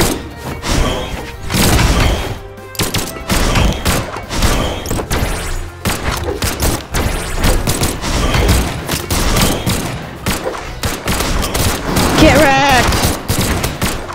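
Rapid volleys of blaster fire and impact thumps from a Brawlhalla team battle, loud and dense throughout with short bursts and crashes, while a player talks over the action.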